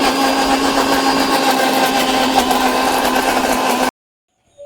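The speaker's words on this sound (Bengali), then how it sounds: "তো এর জন্য আমি এগুলা ব্লেন্ড করে নিচ্ছি" An electric blender grinds mustard seeds and beef into a paste, a loud steady motor whine that runs evenly for nearly four seconds and then cuts off abruptly into silence.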